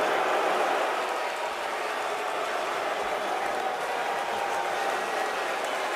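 A large indoor crowd at the 2011 NBA Draft murmurs and reacts in a steady roar of mixed voices and scattered noise, continuous throughout.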